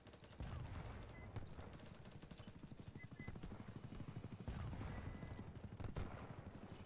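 Distant gunfire in a war setting, a rapid rattling fusillade of shots rolling on in uneven bursts across the whole stretch, moderately loud with a low rumble beneath.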